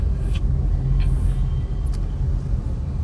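A car creeps forward in first gear through heavy midday traffic in a busy town market, giving a steady low engine and road rumble from inside the cabin, with faint traffic sounds outside.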